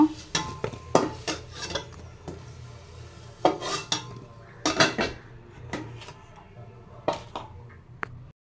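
Fried potatoes being lifted from a pan with a utensil: a series of sharp metallic clinks and scrapes, some in quick clusters, over a low steady background hum.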